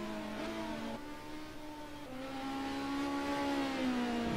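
A Ligier LMP2 prototype race car, number 84, in a racing video game, its engine droning steadily at high revs, with the pitch climbing gradually through the run and dipping briefly near the end, close and continuous.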